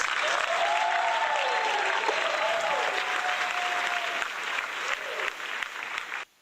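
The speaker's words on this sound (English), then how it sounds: "We gonna give y'all a round of applause for staying up with us on a Wednesday." Sustained applause from a crowd fills the whole stretch, steady and dense, with a whistle-like tone running through it before the clapping cuts off.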